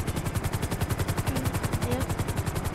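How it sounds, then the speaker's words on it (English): A rapid, even burst of gunfire from a police roleplay video game rattles on without a break, loud and close, with faint radio chatter underneath. "Shots fired, shots fired."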